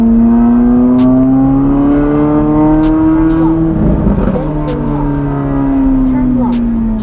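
A red Chevrolet Corvette C8 Z06 engine revs loudly and steadily up close, its rising and falling howl held for several seconds with a brief swell near the middle, while someone talks over it.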